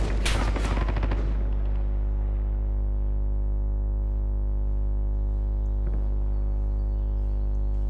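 Loud, close rapid-fire gunfire from a video game rattles for about a second, then gives way to a steady droning hum.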